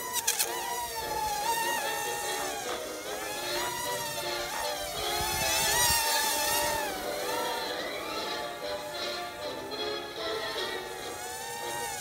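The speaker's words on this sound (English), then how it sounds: "Speeder bike engaged." A Star Wars 74-Z speeder bike engine effect in a Finnish forest: a continuous, loud, whining buzz with shifting pitch sweeps, like an insect-like drone rising and falling throughout.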